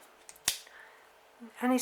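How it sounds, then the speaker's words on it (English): Scissors picked up and handled at an orchid-growing bench, with a sharp snip-like click near the middle and another metallic rustle at the end, short and close. "Let me just get the scissors."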